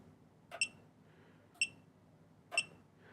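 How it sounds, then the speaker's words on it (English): Three short, sharp beeps from a racing drone change flight modes, spaced about a second apart. Each chirp is brief and high-pitched over a quiet background. "And our mode switch, you'll hear a beep as we change modes."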